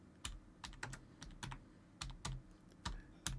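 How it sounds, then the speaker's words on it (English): Quiet hunt-and-peck typing on a computer keyboard, a dozen or so separate clicks in an uneven rhythm, close but faint, with no talking over them. "Hear me like pecking away on the keyboard"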